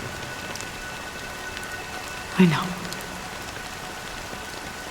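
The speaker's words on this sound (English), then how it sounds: "But it's still raining." Steady rain patters across a surface in the video game Honkai Star Rail, an even wash of drops throughout, with a brief louder knock midway and a short spoken line.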